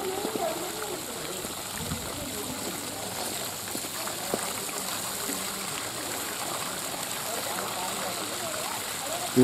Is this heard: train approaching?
no